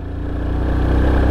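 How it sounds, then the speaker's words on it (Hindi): A Yamaha FZ25 motorcycle, carrying a pillion on a steep, broken road, revs steadily in second gear near 3000 RPM, a close, continuous engine drone that swells slightly louder over the moment, with no voices. "सेकेंड गियर में जा रहे हैं अभी, ऑलमोस्ट 3000 RPM पे रेव कर रहे"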